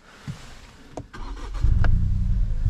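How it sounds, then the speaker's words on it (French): A Ford Puma ST's three-cylinder engine with valved exhaust cranks with a few clicks and whirs, then catches and settles into a loud, deep, steady idle close by. "On va voir un petit peu ce que ça donne au niveau sonorité"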